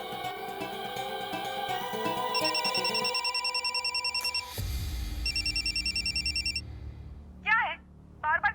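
A telephone rings repeatedly in a Hindi TV drama scene, its electronic ring tones repeating in even bursts over background music, followed by short chirping tones near the end.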